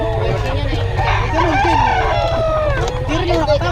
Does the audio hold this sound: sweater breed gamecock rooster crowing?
yes